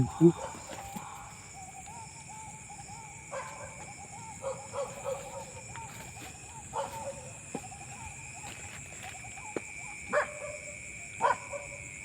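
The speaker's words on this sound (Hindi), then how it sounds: "कुत्ते इकट्ठे हो गए।" Several dogs bark repeatedly at night in scattered bursts and yips, moderately distant, over a constant high insect hum.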